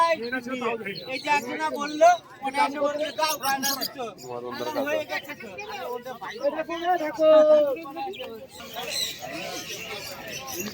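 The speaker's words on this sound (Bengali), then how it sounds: "মদনদার খাঁচায় কিন্তু যেগুলো পায়রা হয়ে রয়েছে সেগুলো কিন্তু পিস চারশো সাড়ে চারশো টাকা পিস দাম চাইছে" Caged pigeons, including racing and flying birds, for sale at a village market in Birnagar, their coos and calls mixed into steady crowd chatter with people talking close by throughout.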